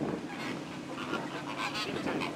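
A flock of greater flamingos calls steadily at moderate distance, with overlapping nasal, goose-like honks and grunts running continuously over a low outdoor rumble.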